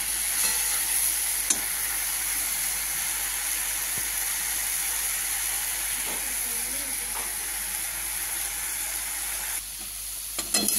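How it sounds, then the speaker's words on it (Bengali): Leafy greens sizzle steadily in a hot pan, a constant crackling hiss with a few soft clinks of stirring, close and even throughout. "আমার শাক অর্ধেক ভাজা হয়ে গেছে, আর অল্প রস টানবে, হয়ে যাবে ভাজা।"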